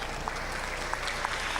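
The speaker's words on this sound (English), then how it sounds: "Let's give these students a round of applause to all of our National Merit Scholars." An audience at a high school ceremony applauds National Merit Scholars, with steady, dense clapping from a crowd that fills the room at moderate volume.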